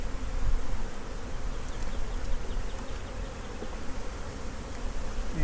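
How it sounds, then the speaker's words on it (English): Many honey bees hum and buzz continuously around a hive, a dense, steady drone up close with no voices. "there's still a decent amount of bees out foraging."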